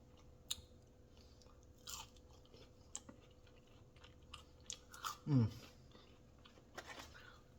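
Someone chews Raising Cane's crinkle cut fries close to the microphone, with quiet, scattered crunches and soft mouth sounds and one louder bite near the end.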